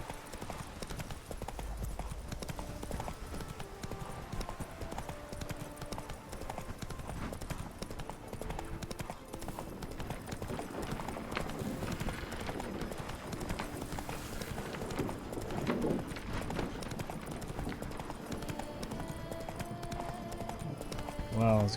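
Roach the horse from The Witcher 3: Blood and Wine clops along a road in a quiet, steady hoofbeat rhythm beneath constant game music and ambience, while a person talks over it throughout.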